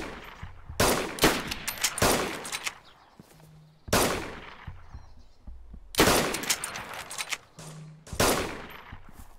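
Repeated bursts of loud, close gunfire in the video game DayZ Standalone, several rapid volleys separated by short pauses, with faint background hum between them.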